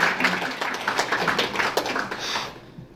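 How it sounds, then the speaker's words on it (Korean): Audience applause at a Korean book launch during guest introductions: a short burst of clapping from a modest crowd, dense for a few seconds before cutting off abruptly. "큰 박수를 보내주세요."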